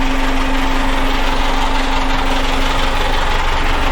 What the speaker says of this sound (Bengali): নয়েজের জন্য আমি একটু জোরে বলে আপনাদের বোঝানোর চেষ্টা করছি, জানি না কতটা ক্লিয়ার আসবে, কারণ ইঞ্জিন রুমের পাশেই তো